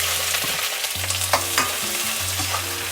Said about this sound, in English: Okay, let's cook the vegetable fried rice.